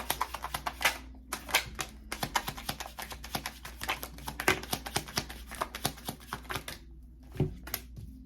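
Tarot cards taken out and handled at a reading table, rapid crisp flicks and taps in dense, uneven bursts like shuffling, close and fairly quiet, easing off near the end.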